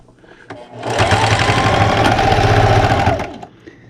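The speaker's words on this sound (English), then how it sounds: "I'm going to back stitch at the beginning." A sewing machine back stitches at the start of a seam on a quilt ruler holder pocket, set to a 1/8 inch seam allowance. It gives a loud, steady run of close stitching of about two seconds, with a brief mechanical clack before it and another after.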